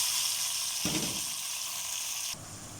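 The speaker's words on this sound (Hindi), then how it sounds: "प्याज फ्राई कर लें" Half an onion frying in a pan for a chicken karahi, giving a steady close hiss and sizzle that shifts partway through and drops quieter near the end, with no talk.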